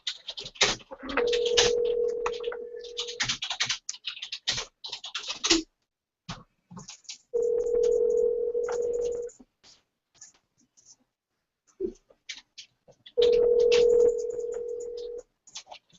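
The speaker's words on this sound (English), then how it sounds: "There's another tool available. It's an auto dialer." A Phone Burner auto dialer placing calls, with three steady ringback tones of about two seconds each, separated by pauses, among keyboard clicks and brief speech.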